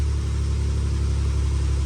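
Engine of a 1968 Jaguar 420G running steadily at about 1500 RPM, a close, even, continuous drone with a pulsing low rumble, no voices.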